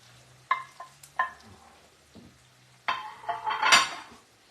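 Broccoli rabe added to a pan with sausage and sautéing: a few metallic clinks and knocks come first, then a louder rush of sizzling and rustling as the greens go in, close by.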